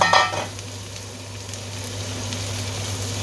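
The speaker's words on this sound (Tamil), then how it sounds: "குடை மிளகாய் இப்போ வதக்க போகிறோமா" Red bell pepper sautés in a pan with a loud sizzling burst at first, settling into a steady, close crackle of frying.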